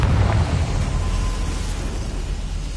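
A Confringo fire spell bursts into an explosion in Hogwarts Legacy on PS5, a loud, rumbling blast right up front that rolls into a dense, roaring decay across the whole clip.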